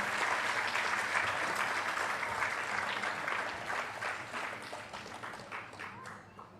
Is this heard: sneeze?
no